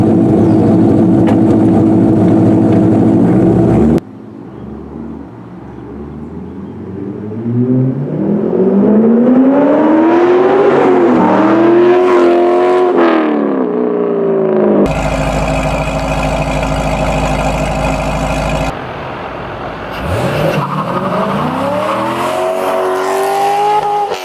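A Corvette C5 Z06 with a titanium super bypass exhaust and carbon tips, idling loudly before several long revs that climb and fall, cut between separate takes; the engine sounds close and no one talks.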